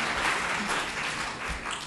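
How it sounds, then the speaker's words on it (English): Audience at a Sausalito planning and landmarks meeting about the ferry landing claps steadily for a couple of seconds, a moderately loud, even patter of many hands in a room. "I would really appreciate it if you all would hold your applause till the end of the meeting"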